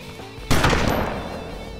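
A single sharp blast from a sawn-off shotgun in the video game DayZ, loud and close, erupting suddenly after a quiet moment and trailing off in a fading rumble.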